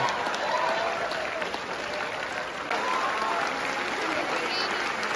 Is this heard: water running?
no